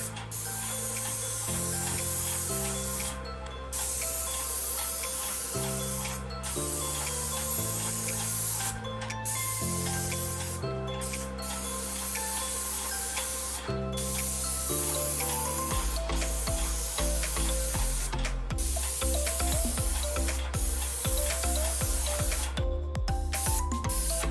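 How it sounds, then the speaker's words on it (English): A paint sprayer spraying exterior house siding hisses continuously and loudly for a long stretch, with a steady droning motor underneath that shifts pitch, pausing only briefly between passes. "And when I'm spraying, I try not to go too fast"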